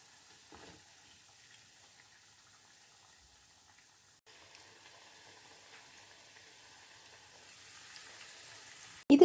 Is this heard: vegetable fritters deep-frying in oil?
yes